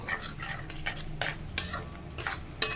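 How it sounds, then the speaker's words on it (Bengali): A spoon stirs a turmeric spice mixture in a pan while cooking an egg curry, giving soft repeated scraping and light clinks over a faint sizzle, close and steady. "দিয়ে এটাকে একটু মিক্স করব"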